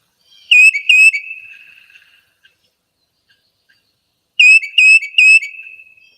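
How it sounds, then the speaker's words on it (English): Tufted titmouse calls: two phrases of three clear, high whistled notes, separated by a few seconds of silence. "Here's the sound of the tufted titmouse."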